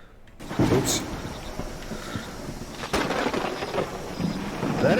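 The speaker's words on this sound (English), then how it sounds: "There is a massive thunderstorm going on." Steady rain and rumbling thunder from a storm in the Viking settlement game Land of the Vikings, with a sharp crack midway and bursts of rolling thunder, and a faint voice murmuring beneath.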